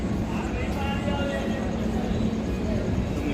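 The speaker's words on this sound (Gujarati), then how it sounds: "આ નડિયાદનું રેલવે સ્ટેશન છે મિત્રો" Busy railway station ambience at Nadiad, a steady low rumble of trains and platform bustle with faint crowd voices blended in, continuous and fairly close throughout.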